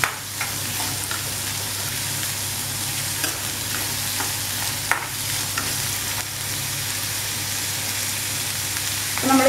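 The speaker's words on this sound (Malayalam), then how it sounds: "സവോള ഇളക്കി കൊടുക്കുക." Onions sauté in a frying pan, a steady sizzle running throughout with spoon scrapes and stirring knocks recurring at irregular intervals, close and fairly loud with no talking.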